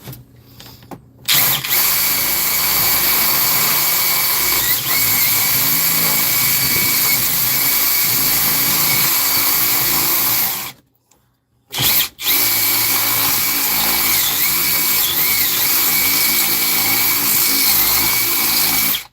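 A power drill runs loud and steady for long stretches, grinding hard into material, with one brief pause before drilling resumes.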